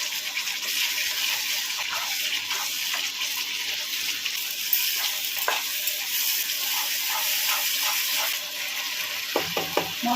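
Spice paste for Hilsa fish korma frying in oil, with Kashmiri red chilli powder in it, giving a steady close sizzle throughout, broken by small stirring scrapes and a few brief clinks near the end.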